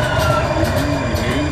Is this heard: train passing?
yes